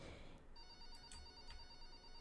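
A telephone rings in a room, a faint electronic ringing with a sustained trilling tone and brief pulses, heard alone without talk.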